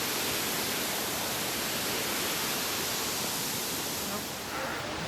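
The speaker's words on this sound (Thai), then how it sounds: "อันนี้น้ำตกนะครับเพื่อน" Waterfall on the Kew Mae Pan trail at Doi Inthanon, a steady, dense broadband rush of falling water that stays constant and fairly close throughout, with no voices over it.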